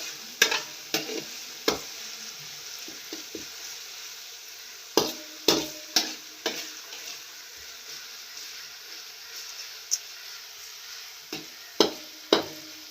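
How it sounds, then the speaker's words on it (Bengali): Desi rooster meat sizzles and fries in a pan as a spoon stirs it, with repeated sharp scraping knocks against the pan over a constant hiss of frying. "মাংস রান্না করছে"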